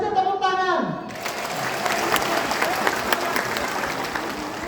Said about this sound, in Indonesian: Yang positif tepuk tangan.